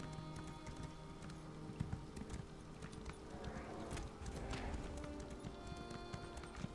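Horse hooves clip-clopping steadily at a quick gallop in Elder Scrolls Online, a close, even rhythm of hoofbeats that runs through the whole stretch at low level with no talk.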